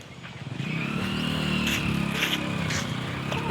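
A motor vehicle engine drones steadily nearby, rising slightly as it passes ahead and swelling louder near the end.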